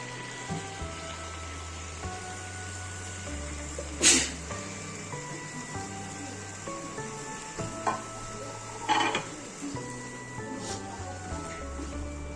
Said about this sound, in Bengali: ভালোভাবে নাড়াচাড়া করে নেব।